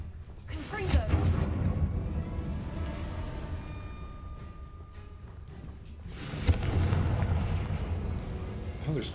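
Confringo blasting spell explosions in the wizarding game Hogwarts Legacy, two loud booming blasts several seconds apart with rumbling tails, a voice speaking between them.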